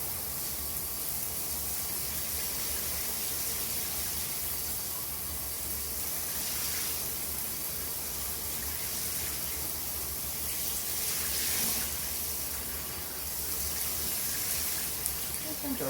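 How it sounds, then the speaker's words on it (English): Shower water sprays steadily over Cosmo, a pet talking parrot, as she sits underneath it, a constant close-up hiss and patter of running water holding an even level throughout with no voices. "Just like to sit here and just enjoy the water going on her."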